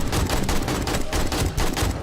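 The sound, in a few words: AK rifle gunfire in a video game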